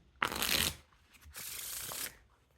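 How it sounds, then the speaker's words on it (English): Theory11 Lord of the Rings playing cards are riffle shuffled nearby: two crisp bursts of rapid fluttering clicks, then a brief soft pause between them. "Now time for the riffle shuffle or bridge shuffle."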